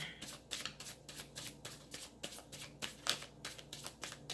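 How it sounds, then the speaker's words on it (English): A deck of cards being shuffled repeatedly, with quick riffling bursts and soft slaps recurring about twice a second, close and moderately loud. "I'm going to shuffle."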